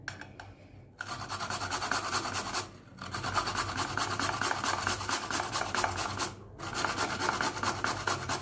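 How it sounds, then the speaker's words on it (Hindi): Raw turmeric root is rubbed across a fine kitchen grater in fast, close scraping strokes, continuous rasping with two or three brief pauses between bursts. "पर मैं यहाँ पे ऐसे कद्दूकस कर लूँगी।"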